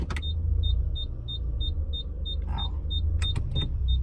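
A car idles with a low, steady engine rumble while shifted into reverse; the engine has a jerking fault with stored code P0131. Quiet, regular beeps repeat about every 0.4 seconds throughout, with a few brief clicks and knocks near the end.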